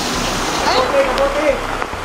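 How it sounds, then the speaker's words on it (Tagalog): Floodwater rushes through Montalban, Rizal, a steady broadband roar like a stream or waterfall that continues throughout, with voices faintly audible underneath. "Dahil sa patuloy na pagragasa at pagtaas ng tubig,"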